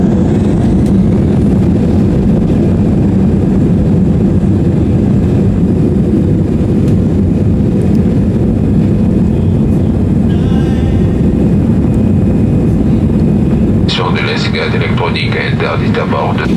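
Inside the cabin of an Air Cote d'Ivoire Airbus A319 in flight, a loud, steady low engine and airflow drone fills the space, with the hiss turning brighter and rougher in the last few seconds.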